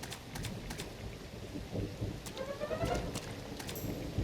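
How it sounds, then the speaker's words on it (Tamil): Steady rain fills a cartoon scene, a dense hiss with a few sharp drop-like ticks and faint whistling tones, continuous and fairly close, with no talk over it. "நீ மழையில நனையாம ஒதுங்கி இருந்தாதான் நல்லது."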